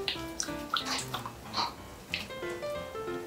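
Warm water splashes and drips as a face is wetted during a morning routine, giving several close, light splashes in an irregular rhythm with no talking.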